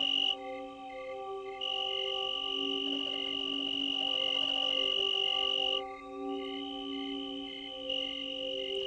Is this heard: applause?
no